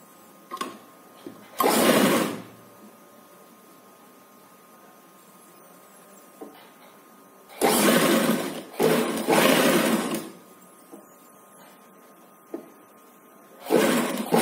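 A sewing machine stitches lace around the neckline of a baby frock in short loud bursts of rapid whirring, separated by quiet pauses with faint clicks.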